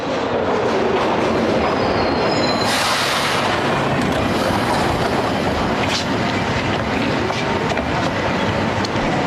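A loud, continuous subway train roar rumbling along the rails, with rattling clatter and a brief high metallic squeal of wheels.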